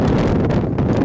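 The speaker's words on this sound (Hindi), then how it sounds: "हवा काफ़ी तेज़ी से चल रही है।" Strong wind sweeps across an open field at Muzdalifah, roaring as a loud, continuous rumble that buffets the microphone with no pauses.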